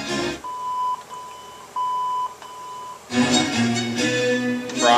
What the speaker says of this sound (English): It'll beep and put you in the balance mode.